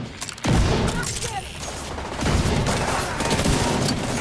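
Machine gun fire in Division 2 crackles in sustained bursts with heavy booming hits, loud and continuous, while players talk faintly underneath.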